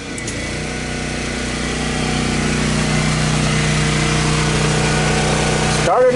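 Airens portable generator engine running steadily just after starting, a loud continuous mid-pitched drone with a constant hum throughout, close by, with a brief voice near the end.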